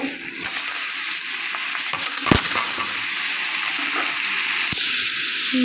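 Prawn masala frying in a pan as squeezed, blanched ol (elephant foot yam) stems are added, a steady close sizzle with occasional stirring scrapes and clacks.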